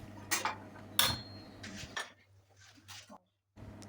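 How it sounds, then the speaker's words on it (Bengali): An iron tawa griddle is set down on a kitchen stove before rolling out roti, giving a couple of sharp metallic clanks near the start, then quieter shuffling and a brief silence. "আমি তাওয়া বসিয়ে দিয়েছি"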